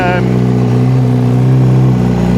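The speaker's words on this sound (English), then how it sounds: "If you like reasonably loud exhaust, I'd recommend that system. It sounds brilliant." A loud 2025 Honda CBR1000RR-R SP Fireblade engine rumbles and revs through its exhaust, a steady deep drone with rising and falling pitch.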